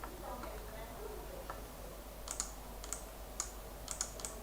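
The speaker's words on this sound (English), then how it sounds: "Somebody's typing" Scattered keyboard typing, a handful of sharp clicks in an uneven rhythm over a low steady hum, slightly distant and fairly faint.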